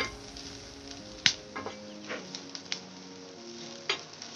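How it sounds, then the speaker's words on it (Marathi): Chopped onion frying in a little oil in a pan for phodnicha bhaat, a soft steady sizzle with a few sharp clicks and scrapes of a spoon stirring, close and quiet, no voices. "कांदा चांगला लालसर करून घेतला आहे, कारण आपण जास्त तेलाचा वापर नाही करत आहे, त्याच्यामुळे कांदा असा भाजून घ्यायचा"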